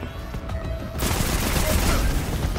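Gunfire from weapons in the video game Destiny 2, on the planet Nessus: after a second of low background noise, loud continuous shooting starts and holds steady to the end.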